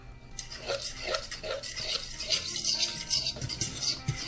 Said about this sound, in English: All right, let's stir.